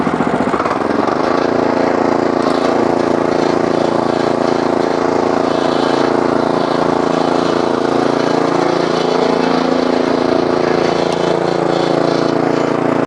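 Husqvarna TF440 walk-behind tractor engine running loud and close, its pitch rising as the throttle opens and then holding a steady, strong drone throughout.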